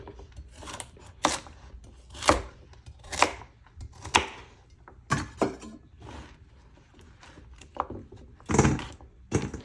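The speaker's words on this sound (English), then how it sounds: "So we're gonna just chop up these, then we get them washed." Carrots are chopped on a cutting board for Jamaican carrot punch, the knife landing in irregular thunks, some sharp and some soft, close by with no talking.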